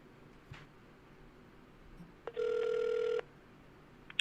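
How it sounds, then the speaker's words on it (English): A telephone call being placed: faint clicks, then a single steady electronic ring tone lasting under a second over a quiet line hiss, followed by more faint clicks. "I'm going to hang up and I'm going to call back here"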